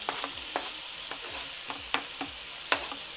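Onions and garlic sauté in a pan, a soft even sizzle with spaced scrapes and clicks of the stirring utensil, close and unaccompanied by talk.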